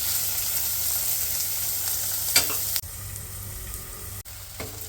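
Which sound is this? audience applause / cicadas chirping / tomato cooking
tomato cooking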